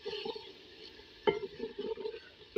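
Bengali aloo ghati, a North Bengal potato dish with green chillies, being stirred in a pan, with soft scraping and a sharp utensil clink partway through, over a faint sizzle.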